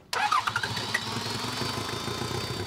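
A Toyota Hilux engine that had been caked in mud and water is cranked and catches abruptly after only a spray cleaning, then settles into a loud, rough, uneven idle close by.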